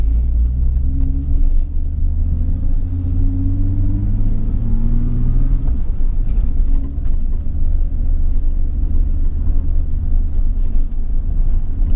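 A 1991 Nissan 300ZX twin turbo drives over a rough road, heard from inside as a loud, continuous low engine drone with road rumble and bumps, the engine note shifting in pitch early on.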